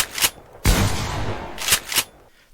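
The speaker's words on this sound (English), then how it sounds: "here's the shotgun with leggings and reload enchant" A shotgun in a modded video game, fitted with leggings and a reload enchant, fires four sharp blasts: a single shot, then a long booming one, then two quick reports close together, loud and with no talk.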